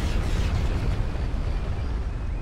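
An explosion in the Star Wars Battlefront Commander video game: a loud, sustained, deep rumbling blast that fills the whole moment without letting up, with no voices.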